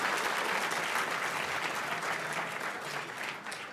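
Steady applause from an awards-event audience fills the room, a dense wash of many hands clapping at even strength before easing slightly toward the end.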